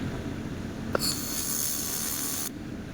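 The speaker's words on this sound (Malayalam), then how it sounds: "ഇങ്ങനെ വെൽഡ് ചെയ്ത് പോവാം ഇത് ക്ലിയർ ആയിട്ട് വെൽഡിങ് ആയി നടന്നു" A laser welding machine welds metal: a small click, then a steady, bright, hissing buzz for about a second and a half over a low background hum before cutting off.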